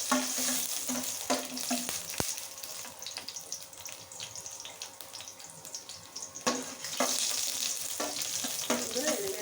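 Garlic and a slit dried red chilli frying in oil for a Bengali potato dal, with steady close sizzling and occasional stirring scrapes that swell near the end.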